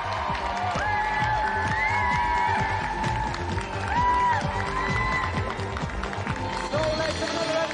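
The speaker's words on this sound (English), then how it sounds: "let's have another round of applause for Simon Hamilton and our special guest, Steve Backley" A studio audience on the GamesMaster TV show claps and cheers in a loud, sustained burst. A presenter's voice talks over the crowd, and music plays underneath.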